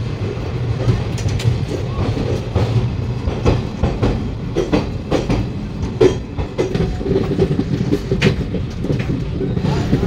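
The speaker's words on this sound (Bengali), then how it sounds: "একদম সঠিক টাইমে ট্রেনটা ছেড়ে দিয়েছে" An intercity express train runs on tracks between Kolkata and New Jalpaiguri, heard from inside a chair car as a loud continuous rumble with rhythmic wheel clatter and rattling throughout.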